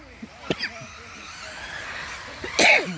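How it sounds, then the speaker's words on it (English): A person sneezes and coughs in a brief fit amid dust at a 4WD buggy race, a few sharp bursts near the start and a louder one near the end, over faint background noise. "Well, sneezing fit there."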